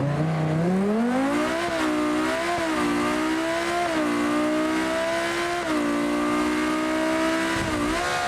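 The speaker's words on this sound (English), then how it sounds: "Lamborghini." A Lamborghini supercar engine revs loud and close in a sustained, wavering roar. The pitch climbs at first, then rises and dips repeatedly as the throttle is worked, with no talk over it.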